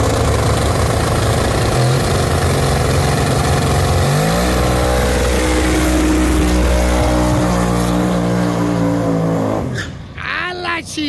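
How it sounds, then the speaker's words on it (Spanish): A Chevrolet Colorado pickup on new oversized tires does a burnout, engine roaring loud and close and rising in revs, with voices talking over it before it fades near the end. "Pero qué buena quemada."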